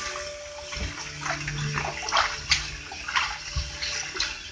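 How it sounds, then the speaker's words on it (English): Sliced potatoes being rinsed in water for homemade chips, with steady sloshing and swishing of water in a bowl or sink, close and continuous with small splashy bursts. "add more water, you certainly want to rinse this out"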